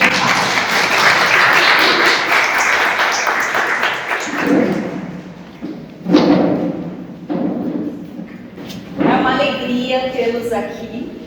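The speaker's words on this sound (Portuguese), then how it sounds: "Uma salva de palmas para esse." Audience at a church talk breaks into loud applause, dense clapping that fades after a few seconds into scattered claps and thuds with brief bursts returning near the end.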